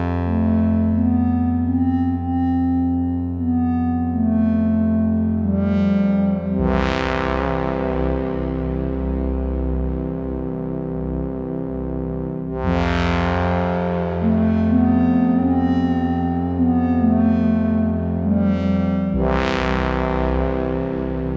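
A ButterSynth synthesizer patch runs through a filter, delay and reverb, playing sustained, evolving tones with three bright plucked attacks that ring out and decay into a washy echo tail, steady and loud throughout.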